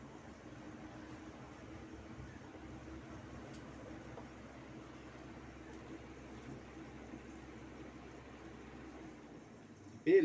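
An Arno fan circulator, just reassembled after fixing a worn bushing, runs with a steady low motor hum and airy whoosh throughout, fairly faint and constant, ending with a brief louder knock.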